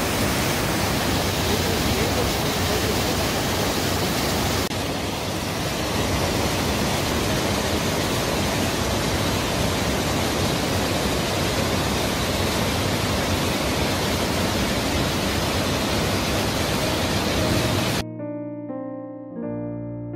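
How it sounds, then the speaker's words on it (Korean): Bidulginang waterfall sends up a steady, loud, unbroken roar of rushing water for most of the stretch, then cuts off abruptly as brief music takes over at the end. "비둘기낭 폭포입니다."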